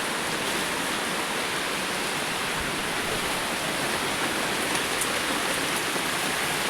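Heavy rain falls outdoors, a dense, even hiss of downpour that stays loud and constant throughout with no voices or breaks.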